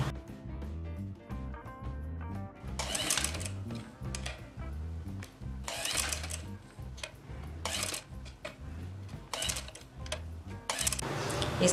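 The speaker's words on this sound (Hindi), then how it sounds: "इस तरह हम इसकी जिगजैग भी बना सकते हैं और बिल्कुल सिंपल सिलाई भी कर सकते हैं।" Sewing machine stitching zigzag and straight stitches with gota thread, a steady rhythmic mechanical whir and clatter in repeated bursts, close but fairly quiet.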